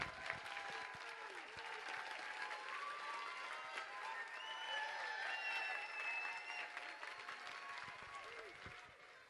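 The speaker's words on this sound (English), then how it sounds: "Give yourselves the biggest round of applause." An audience at a community gathering claps in a sustained round of applause, with scattered cheers and voices mixed into the dense clapping. It swells slightly midway, then begins to fade.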